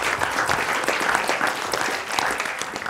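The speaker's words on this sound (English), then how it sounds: "maybe a round of applause" A conference audience at a development event on investing in girls and women breaks into continuous applause, a dense, even wash of many hands clapping throughout, with no speech on top.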